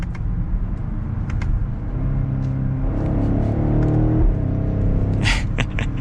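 Deep V8 engine and exhaust of a 2022 BMW X7 M50i xDrive in sport mode, heard from inside the cabin as a steady rumble that swells into a rising rev midway, then settles with a few breathy sounds near the end.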